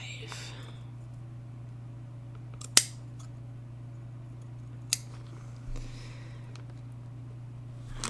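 Scissors snip leaf shapes out of paper or fabric in a quiet room, a few sharp isolated cuts spaced seconds apart over a low steady hum.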